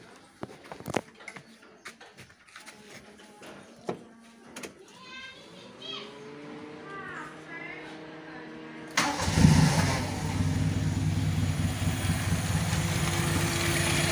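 A Toyota Starlet engine cranks and catches after a steering rack seal repair, settling into a steady close idle that continues to the end, preceded by scattered workshop clatter.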